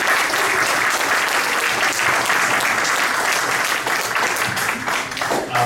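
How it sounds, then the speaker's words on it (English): An audience in a hall gives steady, sustained applause, a dense wash of clapping that stays loud from start to finish. "let's hear it for Dr. Cade Brumley."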